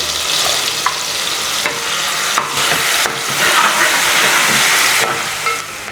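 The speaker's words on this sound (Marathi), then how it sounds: "संपूर्ण वाटण ॲड करतो आणि तेलासोबत याला भाजून घेतो" Ground masala paste roasting in hot oil gives a loud, close, continuous sizzle, broken by brief scraping strokes as it is stirred around the pan.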